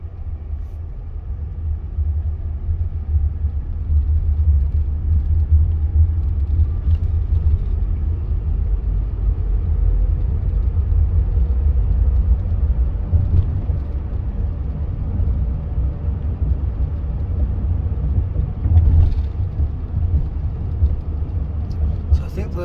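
A Waymo self-driving taxi moving through city traffic at around 35 mph, heard from inside as a continuous low road rumble and engine hum with faint passing vehicles.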